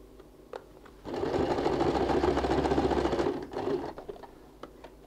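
A sewing machine runs a steady straight stitch on a curtain-ring handbag for about two and a half seconds, a close, even whirring hum that starts abruptly and stops, with faint handling clicks around it.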